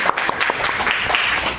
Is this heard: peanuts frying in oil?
no